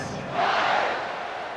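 Stadium crowd roar in EA Sports College Football 26, a swelling burst of cheering that rises briefly and then fades back under the ambience.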